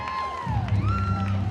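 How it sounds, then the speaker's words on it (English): A crowd at a mini monster truck event cheering and whooping, bright shrill voices rising over a low engine-like drone that swells midway through. "Hearing the ladies cheering for you"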